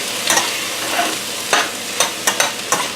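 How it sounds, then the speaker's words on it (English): A spoon stirs vegetarian chili with dried oregano in a pot, making several sharp scraping strokes against the metal over a steady soft sizzle, close and fairly loud with no talking. "Going to mix this around a little bit"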